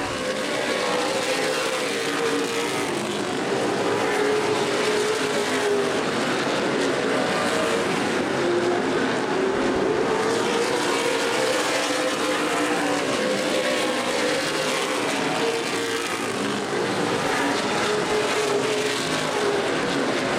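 Race cars in the 2011 CRA Super Series Redbud 300 at Anderson Speedway, a short oval, make a continuous loud roar of engines, their whine rising and falling as the pack circles, with no break for the whole stretch.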